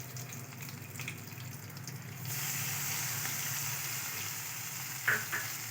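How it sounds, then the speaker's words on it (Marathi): Ground chili and garlic paste frying in hot oil, a quiet steady sizzle that grows denser after a couple of seconds, with a brief clink of a utensil near the end. "आता हे सर्व मिश्रण छान तेलामध्ये फ्राय करून घेऊया."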